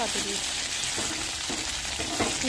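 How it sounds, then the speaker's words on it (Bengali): Steamed flat beans (shim) lightly frying in a pan give off a dense, continuous sizzling hiss, close and steady throughout, with faint stirring underneath. "তো শিমটাকে একটু ভাপ দিয়ে নিয়েছিলাম, তো এখন একটু হালকা ভেজে নেব"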